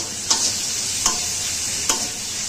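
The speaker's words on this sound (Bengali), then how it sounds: "এখানে মেরিনেট করা মাংসগুলো এখানে ভেজে নিচ্ছে।" Marinated meat for momos frying in a pan: steady sizzling hiss punctuated by three distinct scraping stirs at roughly even intervals, close and moderately loud.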